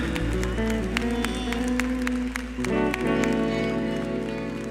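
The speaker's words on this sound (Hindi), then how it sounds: "तारीफ करें सबसे जोर से तालियों के साथ" A worship-service congregation claps steadily and rhythmically, layered over sustained live music from the choir and keyboards.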